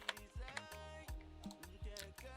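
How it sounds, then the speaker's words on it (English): Keys on a computer keyboard are typed in short bursts of soft, close clicks while entering text in Photoshop, quiet overall, with no voices. "I type food."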